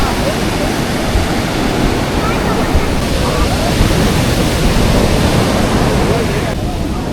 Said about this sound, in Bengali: যখন এই ঢেউটা হচ্ছে পাড়ের দিকে তখন আস্তে আস্তে ঠেলে নিয়ে চলে আসছে।